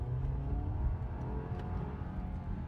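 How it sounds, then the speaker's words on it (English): A Mercedes E350e hybrid car accelerates hard, giving a faint, steady whirring rumble of engine and motor that swells slightly before settling into a continuous low drone. "It's an E350E hybrid. Basically, it's absolutely rapid, so I'm just going to boot it right now"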